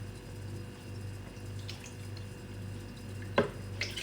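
Spring or filtered water poured into a blender for plant-based yogurt, a soft steady trickle over a low hum with a couple of brief splashy bursts near the end, fairly quiet and without speech.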